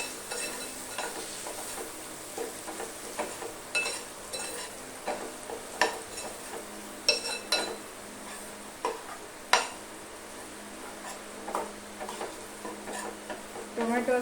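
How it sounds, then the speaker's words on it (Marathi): Spices with Kashmiri red chili being stirred and mixed in a pan, a soft continuous sizzle broken by irregular clinks and scrapes of a spoon against metal, close and unaccompanied by speech. "आणि ही कश्मीरी लाल मिरची आता हे छानपैकी सगळं मिक्स करून घ्यायचं"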